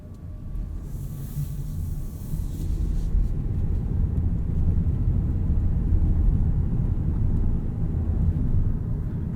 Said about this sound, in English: You can hear at speeds below 23, 24 miles per hour, there's a bit of an electric whirring noise